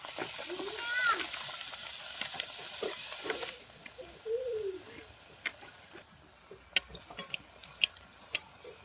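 Beguni chop, battered eggplant slices, frying in hot oil, with a steady sizzle that starts loud, then softens, broken by sharp ticks and pops of spatter.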